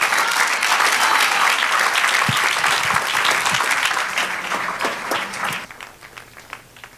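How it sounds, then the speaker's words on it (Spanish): A church congregation applauds after a prayer, a loud, dense wash of clapping that carries on steadily and then thins and fades toward the end. "Sigue aplaudiendo"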